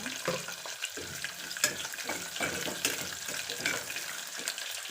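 Rice ingredients sizzle and crackle as they fry and are stirred in a pan, a steady close hiss broken by scraping stir strokes, with no talking.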